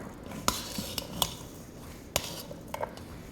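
Utensil stirring noodles with Parmesan in a bowl, a handful of sharp clinks and scrapes of metal against dish scattered irregularly over a soft background, close and fairly quiet.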